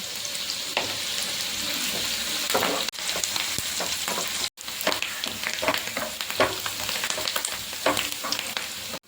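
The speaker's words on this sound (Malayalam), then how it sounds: "ആവശ്യത്തിന് കറിവേപ്പിലയും കൂടി ചേർത്ത് നമുക്കിതൊന്ന് വഴറ്റിയെടുക്കാം." Chopped shallots and curry leaves sauté in hot oil with a steady close crackling sizzle, broken by scraping stirs of a spoon across the pan.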